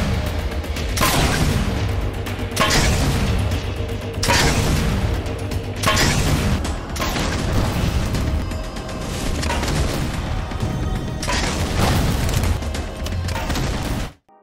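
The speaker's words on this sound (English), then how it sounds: "its firing sound has now been changed to the Halo 4 fuel rod gun" Heavy booming shots from the Halo 4 fuel rod gun, a video game energy weapon, repeat at a steady pace, roughly every one and a half seconds, each a loud blast with a trailing rumble.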